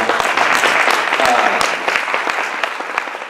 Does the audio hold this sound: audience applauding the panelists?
yes